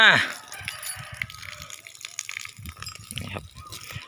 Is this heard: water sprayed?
yes